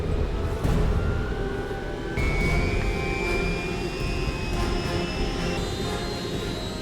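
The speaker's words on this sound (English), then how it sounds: "Ted, I had no idea you knew how to fly a helicopter." Steady, loud engine roar of a helicopter in flight, a continuous broadband drone with a rising whine layered on top, no voices.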